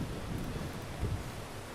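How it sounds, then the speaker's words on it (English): Steady rain hisses in Minecraft, with a low thunder rumble swelling briefly in the middle, the whole storm a continuous close wash of noise. "Right now it's raining."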